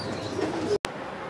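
Pigeons at a breeder's loft in Latur, Maharashtra coo softly amid ambient noise, a low murmuring call cut by a sharp break before the background resumes.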